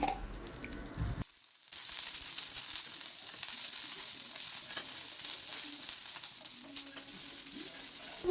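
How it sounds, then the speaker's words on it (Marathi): Green chillies and garlic roasting in oil on a hot griddle, giving a steady crackling sizzle with brief stirring and scraping sounds after a short quiet gap near the start. "मिरच्या घेतल्या, लसूण थोडा तव्यावर छान तेल टाकून भाजून घेतलं"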